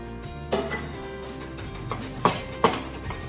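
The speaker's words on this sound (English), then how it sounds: "I have about 10 cloves of garlic, which I cut them in pieces. I'm going to add that in oil. Stir it." Cut garlic cloves are stirred in hot oil in a pan, with a few clinks and scrapes of a utensil against the metal over a faint sizzle.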